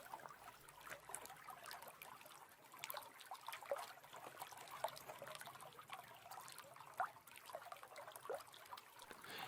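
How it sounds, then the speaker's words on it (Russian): A slow-flowing, clear forest stream in a winter woodland trickles and burbles softly and continuously, faint and close with small bright splashes. "Это медленный поток чистейшей воды."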